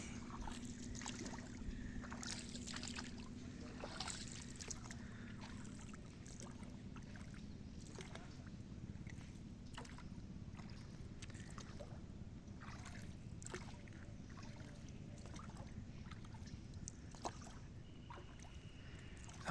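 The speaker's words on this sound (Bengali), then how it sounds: "এতক্ষণ আমরা নৌকা দিয়ে আসলাম এখানে" Rowing boat gliding slowly through shallow swamp forest water, with soft repeated paddle splashes and gentle water trickles over a steady low background, no talk.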